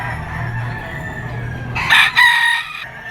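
A two-year-old Boston gamefowl rooster, banderado type, crows once near and loud at a gamefowl market in Padre Garcia, Batangas, with the call rising over steady background hum and farm ambience.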